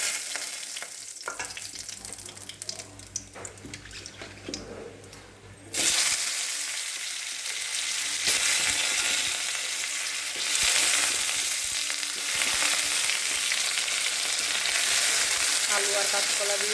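Cumin seeds and bay leaf tempering in hot oil in a kadai, starting with quieter kitchen sounds before a loud, steady sizzle bursts in and crackles continuously to the end.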